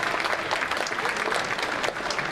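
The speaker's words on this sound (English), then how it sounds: "Can we have a big round of applause for him?" A conference audience at the BARTIK100 International Conference on Networks, Intelligence and Computing gives a guest a sustained round of dense, even applause from many hands, steady and fairly loud from start to end.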